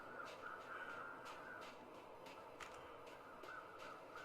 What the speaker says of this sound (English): I think the crows sound a little bit different now than they did before